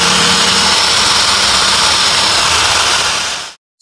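A DongCheng DZJ02-13 electric impact drill runs with no load, a loud, steady high whine that holds for over three seconds and then cuts off abruptly to silence.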